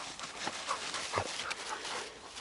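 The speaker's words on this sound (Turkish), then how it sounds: "Senin köpekler." Dogs give soft whimpers and faint panting under a broad hiss of outdoor noise, the sounds brief and low-level, with no talk.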